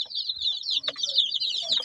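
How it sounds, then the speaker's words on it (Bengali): A group of young native chicks peep nearby in a rapid, continuous stream of high chirps, with a few soft clucks and rustles underneath. "এগুলা সব দেশি মুরগির বাচ্চা।"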